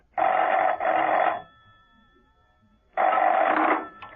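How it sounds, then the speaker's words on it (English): A telephone rings in an apartment with two loud, close bursts of bell trilling, each about a second long, separated by a pause of quiet. "Steed rang Mrs. Peel at her apartment."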